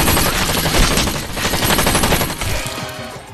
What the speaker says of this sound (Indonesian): Sementara Red berusaha menghindari tembakan untuk menyelamatkan anak dan istrinya.